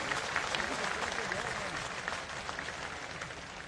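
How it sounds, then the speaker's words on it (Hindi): An audience at a felicitation event in Jaipur breaks into sustained applause to welcome the guests, a dense, steady wash of clapping from many hands that fades slightly toward the end. "सभी अतिथियों का शानदार तालियों के साथ स्वागत करें"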